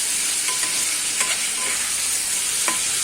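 Potatoes sizzle steadily while being stirred in a pan with ginger, cumin, tomato, coconut, salt, turmeric and chili powder: a constant bright frying hiss broken by a few soft scrapes and clicks of the spatula, with no talking.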